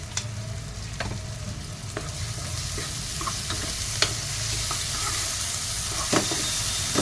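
Fish with onions and a masala paste of coconut, tomato, ginger and garlic fries in a pan with a steady, close sizzle, broken by scattered light scrapes and taps from stirring.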